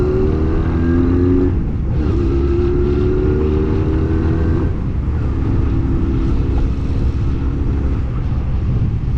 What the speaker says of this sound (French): Là, je vais faire un petit essai, voir quand même si elle roule au moins.